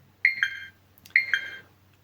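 A Flysky Noble Pro radio transmitter sounds its low-voltage LiPo alarm: two identical double-tone electronic beeps, loud and clear against near silence, about a second apart.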